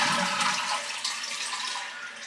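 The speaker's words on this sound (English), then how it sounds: "How does the toilet sound?" A hotel toilet flushes loudly and close by, a rushing swirl of water that stays strong throughout before easing slightly.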